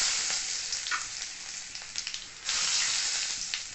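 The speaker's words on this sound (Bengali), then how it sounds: "এবার ওই তেলের মধ্যে আমি দিয়ে দেবো কাঁচা লঙ্কা," Green chilies and black cumin seeds sizzle in hot oil in a pan, a loud continuous crackling fry with a brief dip before the sizzle surges again, heard close.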